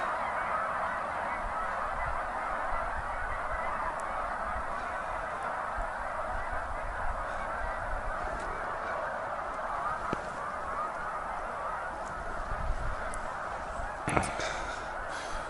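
A large flock of tundra swans honks steadily from a tree blind, a dense, continuous chorus of overlapping calls over a constant noisy background.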